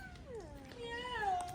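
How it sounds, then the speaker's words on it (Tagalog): A cat under a parked car meows in one drawn-out, rising and falling call, close and clear over faint background noise. "Andres, what the cat say?"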